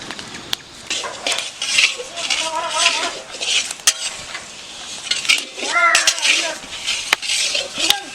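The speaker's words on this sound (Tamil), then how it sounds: "நல்லா பொன்னிறமாக வறுத்துக்கணும்ப்பா" Ingredients for Chettinad Ukkarai being stirred as they roast in a pan in a village setting, with close metallic scrapes and clinks of a spoon against the pan, while voices talk over the stirring.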